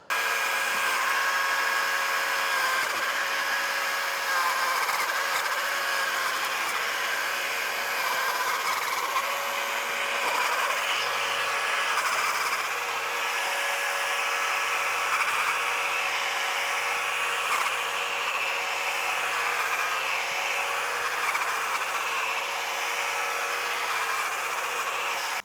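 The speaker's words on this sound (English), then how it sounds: "So with the pole saw, I'm hoping I can kind of reach in there and cut those." A battery-powered pole saw cuts into brush and thick trunks, a steady high-pitched motor whine running loud and continuous with no pauses, no voices over it.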